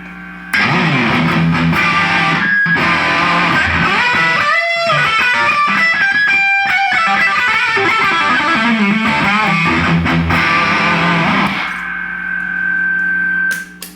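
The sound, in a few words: electric guitar amp with reverb added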